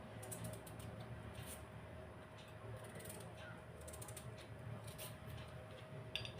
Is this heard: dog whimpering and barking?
no